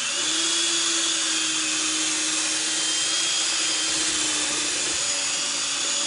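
A small electric stand mixer runs at maximum speed, kneading a heavy batch of bread dough made with six cups of flour for cinnamon rolls, giving a steady, continuous whirring motor drone with a low hum, close and alone.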